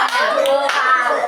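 Children clap their hands together while playing the 'tepuk nyamuk' mosquito-swatting game in a classroom, a brief close burst of claps mixed with children's voices.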